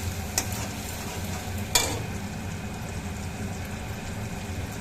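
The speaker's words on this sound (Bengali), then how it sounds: "এখন পেঁয়াজটা ভালো করে ফ্রাই করে নিই" Onions fry in oil in a pan for dahi katla, giving a steady low sizzle with a couple of sharp stirring clicks near the start.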